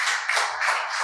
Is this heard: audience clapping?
yes